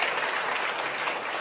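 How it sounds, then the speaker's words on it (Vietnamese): Church audience in a large hall giving a round of applause after a talk, a dense, steady wash of clapping from many hands, loud and unbroken from start to finish. "Một lần nữa xin vỗ một tràng vỗ tay cảm ơn cả nhà."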